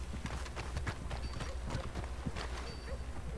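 Hoofbeats of a horse galloping off in Red Dead Redemption 2, a quick steady clip-clop rhythm over a constant low rumble, fairly close and moving away, with no talk.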